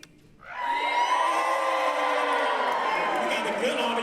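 A live audience at an Asian cultural festival erupts into loud, sustained cheering and whooping that swells quickly and holds steady, with shouting voices mixed through the crowd.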